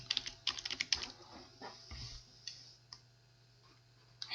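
Keys clatter on a computer keyboard in a quick burst of close, light clicks, then slow to a few scattered taps over a faint steady hum in a quiet room.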